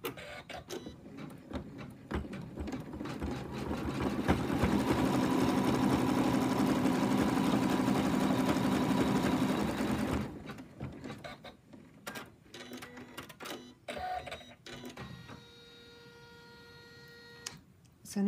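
An embroidery machine stitching an in-the-hoop lamb toy runs in a dense, rapid mechanical chatter for several seconds, then stops, leaving sparse clicks and small handling noises.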